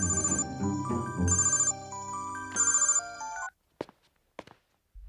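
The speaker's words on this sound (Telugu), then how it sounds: "ఆ సూర్యగడికి ఫోన్ చేయి." A phone ringtone plays a bright repeating melodic pattern in short bursts, then cuts off, followed by a few soft thumps and footsteps.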